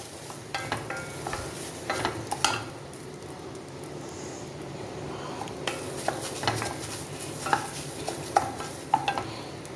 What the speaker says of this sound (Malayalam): നന്നായിട്ട് കൂട്ടി വെച്ച് ഇളക്കും ഇളക്കി അരി വറുത്തെടുക്കണം